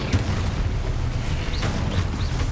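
Spell explosions from the Confringo curse in the Hogwarts Legacy video game, a dense rumbling boom with crackling bursts and whooshing tails that stays loud and sustained throughout, no talk.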